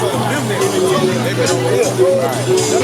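Chatter from a packed crowd at a busy Chicago event, many voices overlapping into a close, steady hubbub.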